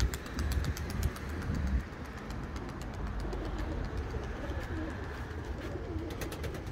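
Tumbler pigeons in flight, heard as soft cooing and fluttering in the open air, faint and steady with a low rumble of background noise.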